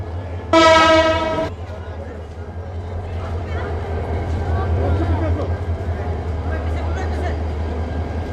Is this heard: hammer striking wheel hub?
no